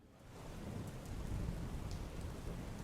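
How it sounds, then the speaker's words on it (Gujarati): Steady rain pours down with deep, rolling thunder during a monsoon downpour in Una, Gir Somnath, a dense continuous roar with low rumbles swelling and fading, no voices present. "ગીર સોમનાથની અંદર વરસાદની ધમાકેદાર એન્ટ્રી"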